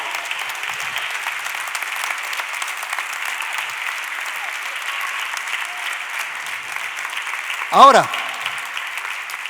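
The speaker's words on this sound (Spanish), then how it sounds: "Dale un fuerte aplauso al Señor." A church congregation applauds steadily throughout, a dense, even wash of clapping at moderate distance, with a brief spoken word breaking through near the end.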